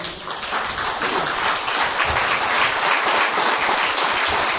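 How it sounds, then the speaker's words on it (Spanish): A church congregation applauds together during a worship service, a dense steady wash of many hands clapping that runs continuously throughout at a fairly loud level, with no voices heard over it. "Démosle un aplauso al Señor."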